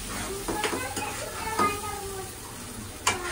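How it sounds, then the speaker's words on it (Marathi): A spiced ground paste being sautéed and stirred in a pan, with intermittent scraping clinks of a spoon against the metal over a soft sizzle, close and moderately quiet. "याला चांगलं परतून घ्यायचं आहे."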